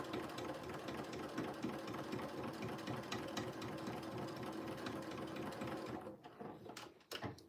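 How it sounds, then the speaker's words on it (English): Sewing machine running steadily while top stitching along the edge of a jeans pocket, a continuous close mechanical whir that cuts off near the end with a couple of brief clunks. "I'm going to go all the way across to the edge, sewing as close as I can to the pocket edge"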